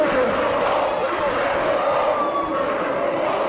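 Fight crowd at an MMA bout shouting loudly and continuously, a dense roar of many voices calling for the fighters to be stood up, steady throughout with no clear single speaker.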